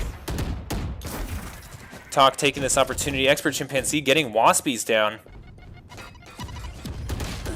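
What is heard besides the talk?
gunfire in an esports video game match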